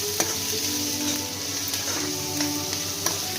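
Onion pieces fry in a pan with a dense, steady close-up sizzle and occasional clicks of stirring, continuous and fairly loud throughout with no talking.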